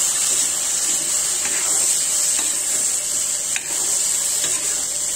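Fish and vegetable curry with pumpkin is stirred in a pan, a soft continuous sizzle with faint scraping strokes of the spoon, close and steady, with no talking.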